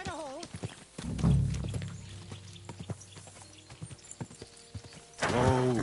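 Horse hooves clip-clop steadily on the ground in Kingdom Come: Deliverance 2, near and rhythmic, with a horse whinnying at the start and again at the end while someone talks over the riding.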